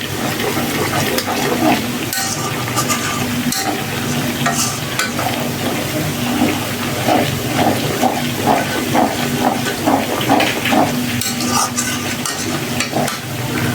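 Onions and a few pieces of cinnamon sizzle while frying in a pan for a beef samosa filling, a loud continuous crackle with occasional stirring scrapes and no talk.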